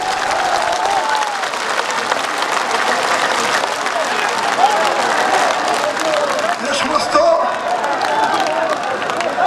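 Loud, sustained applause from a large crowd at a Bangladeshi political rally for BNP leader Tarique Rahman, dense continuous clapping with cheers and crowd noise that swells slightly midway.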